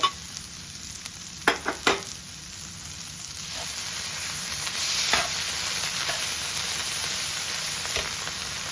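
Masala bread mixture with pav bhaji masala and tomato ketchup is stirred in a hot pan, giving a continuous soft sizzle broken by a few sharp scraping strokes of the spoon, with no talking.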